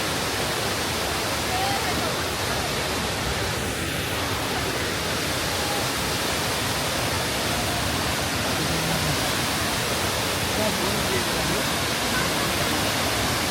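Waterfall at Mandalpatti in Coorg, Karnataka, a steady broadband rush of falling water, loud and unbroken throughout, with voices faintly present.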